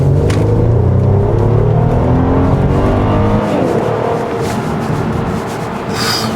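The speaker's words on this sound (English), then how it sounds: "That engine noise is crazy." A Mercedes-Benz C400 accelerating hard in Sport Plus mode, its engine note climbing loud and close through the revs before dropping off as the driver lifts, with no talking over it.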